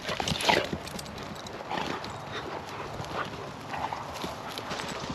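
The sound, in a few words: dogs running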